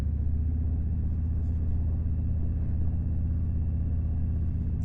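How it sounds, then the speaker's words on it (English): Engine of a 2026 Harley-Davidson Low Rider ST motorcycle held at low speed in traffic, a steady deep rumble that stays loud and even throughout, with no voices over it. "I'm gonna go really slow so that I could do a little bit of an acceleration test"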